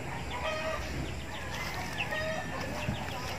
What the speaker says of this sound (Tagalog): tatapos ko na po pakain ng manok